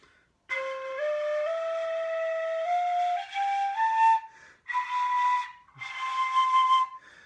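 A shrill American Plating 150CN fife plays a rising scale of held notes, then a few separated notes toward the end, bright and breathy, heard alone.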